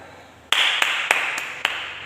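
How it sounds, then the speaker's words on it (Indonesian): Hand claps during a guided exercise routine, five sharp separate claps at an uneven pace over a steady background hiss, with no talking. "tepuklah tangan."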